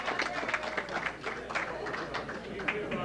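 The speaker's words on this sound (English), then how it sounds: "Here's applause to you." Applause from a camp audience at an evening gathering, a steady wash of clapping filling the room for about three seconds, with some crowd murmur mixed in.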